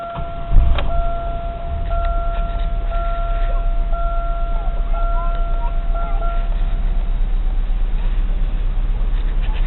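A car with a GM 3800 engine, shown with a service engine soon light and no heat, cranks briefly and then settles into a steady, loud idle hum with faint electronic tones running through it.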